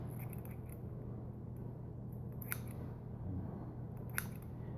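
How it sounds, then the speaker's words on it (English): Cutco kitchen scissors snip in a quiet kitchen, two or three crisp, faint cuts set against a low steady background hum. "you might want to invest in some really nice kitchen scissors"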